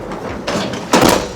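A Chevrolet BrightDrop electric van's cargo door rolls shut along its garage-door-style roller track, a rising rumble ending in a louder close close by.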